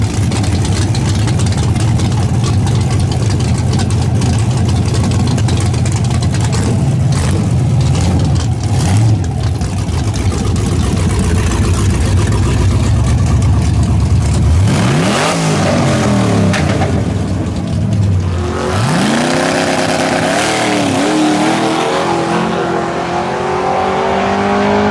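An LS nitrous Chevy Nova drag car rumbles at loud idle with rising revs, then launches on a pass with sharp roaring acceleration and quick gear shifts before the sound thins out.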